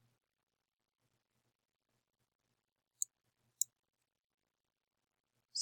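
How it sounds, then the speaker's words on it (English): Three sharp, isolated mouse clicks in a quiet room while submitting a form in Blackboard, spaced about half a second and two seconds apart, brief and crisp with near silence between them. "So click submit."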